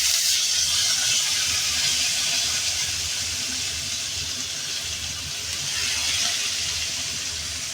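Onions sizzle in a wok of leftover mustard oil, a steady, fairly loud frying hiss that holds throughout with a slight swell near the end; no one speaks.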